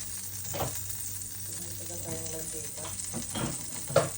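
Scrambled egg frying in oil in a home kitchen pan, a steady low sizzle with a few stirring scrapes and a sharp clack near the end, while a voice talks faintly over it.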